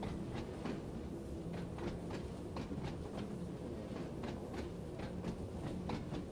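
Train Sim World 2 train coasting up a gradient on the Isle of Wight line with the master controller off, rolling at low speed: a steady rumble with regular clickety-clack rail joints, no talk.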